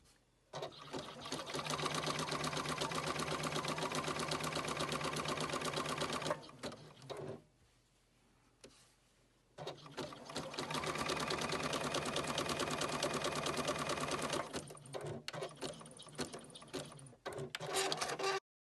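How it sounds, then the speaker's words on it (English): Sewing machine zigzag stitching through fabric and batting, a fast mechanical whirring run that stops briefly for a few seconds, then resumes and continues with short pauses near the end. "I'm going to zigzag the straight edge, these batting together."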